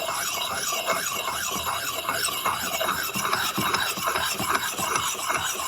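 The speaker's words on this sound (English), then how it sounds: "I'm going to take a sharpening stone and I'm going to hone the edge just to put a new edge on" A sharpening stone is drawn along the blades of a TNT tool to hone a new edge, giving a steady, close, rhythmic rasping rub of repeated strokes with no pause.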